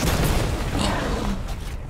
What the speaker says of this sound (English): we're going to fire an RPG at it